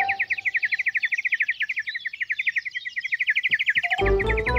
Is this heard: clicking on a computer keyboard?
no